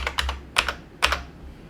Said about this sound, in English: I'm going to choose New Folder. I'm going to call it Paul